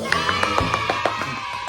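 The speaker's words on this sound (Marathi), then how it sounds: "टाळ्या वाजव, टाळ्या वाजव" Rapid hand clapping, quick bright claps in a steady run over a noisy crowd of voices and cheering.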